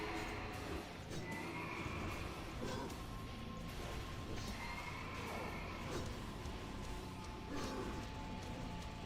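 A horse in World of Warcraft, in the Karazhan raid, neighs and whinnies in repeated quiet calls over steady game ambience, with no talk.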